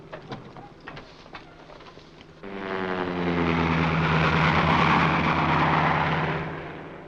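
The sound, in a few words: airplane engine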